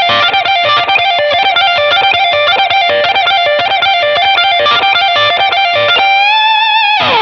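Loud, distorted electric guitar lick with effects, as played in a live solo: a fast run of bent and sustained notes, ending in a held, wavering bend, alone with no talking.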